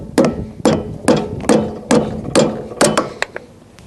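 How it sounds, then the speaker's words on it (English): About eight sharp metallic hammer taps on a boat trailer wheel's bearing cap in a steady rhythm, each ringing briefly, close and loud with no talking. "using a standard hammer, we're going to tap the bearing buddy as we rotate the tire"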